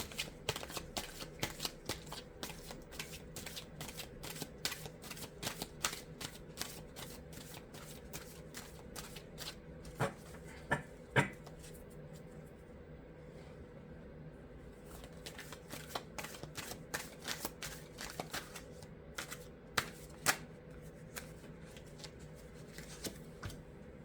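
Tarot cards shuffled by hand during a card reading: a long, steady run of soft, rapid riffling flicks, close and quiet, with no talking.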